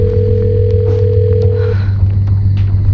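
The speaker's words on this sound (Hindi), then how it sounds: "कब से फोन लगा रही हूँ लेकिन वो फोन ही नहीं उठा रहे।" A phone call ringing out unanswered, heard as a loud steady tone that holds for a couple of seconds then stops, over a low continuous hum.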